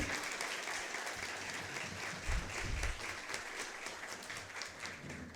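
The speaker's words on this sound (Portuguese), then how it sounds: "Eu peço agora, então, a todos uma salva de palmas" An audience in a theatre at a municipal legislative school's inaugural class claps in a sustained round of applause, dense and even with a few louder thumps midway, heard alone without talk.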